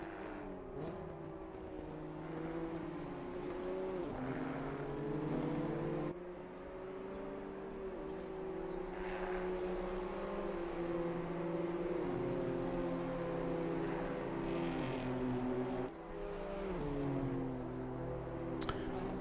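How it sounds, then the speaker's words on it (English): Standard road cars racing in the RTO M2 British Championship, their engines droning and rising in pitch as they pass, quieter than race-tuned cars, with overlapping layers of engine sound throughout. "these cars are just normal road cars, so they are quieter than what you would expect"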